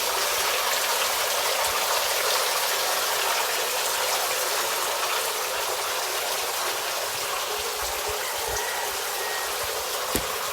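Water gushes steadily from the pump outlet of a fish pond vacuum cleaner, a loud continuous hissing splash with no pauses or voices.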